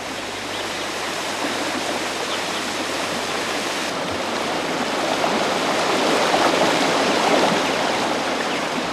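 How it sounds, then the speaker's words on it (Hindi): Waterfall and stream water rushing over rocks at Pachmarhi, a steady, dense roar of flowing water that swells slightly toward the end, with no voices. "पत्थरों, पेड़ों के झुरमुट से कल कल करती धारा, तेज वेग से गिरता पानी"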